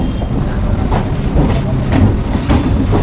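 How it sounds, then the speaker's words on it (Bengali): A Katwa local train rolls out of Howrah Junction, a loud, rumbling rail roar with rhythmic clattering wheel beats recurring throughout. "কাটুয়া লোকাল ঘড়িতে সময় দশটা দুই তারই সাথে কিন্তু হাওড়া জাংশন থেকে ছেড়ে দিল"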